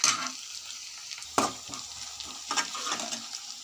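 Ginger garlic paste fries in a pan with onions for egg curry, a close, soft sizzle broken by a few sharp stirring scrapes and clinks.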